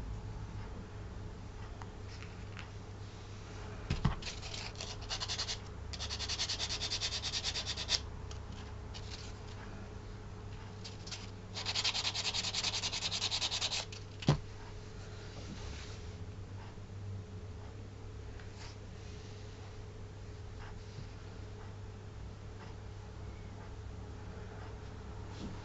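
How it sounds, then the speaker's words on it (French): A wooden log is filed by hand on each side to fit during log-house construction: two separate stretches of close, steady rasping scrape, each a few seconds long, with a couple of sharp knocks and no talking. "Limer un peu de chaque côté pour que ça puisse rentrer."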